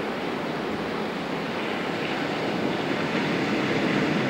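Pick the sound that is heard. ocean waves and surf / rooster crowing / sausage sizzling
ocean waves and surf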